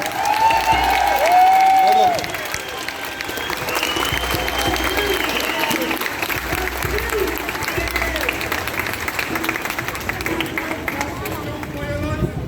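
Crowd at an outdoor rally in Dublin applauding a speaker, a steady broad wash of clapping with some cheering and murmuring voices, loudest at the start and continuing evenly throughout.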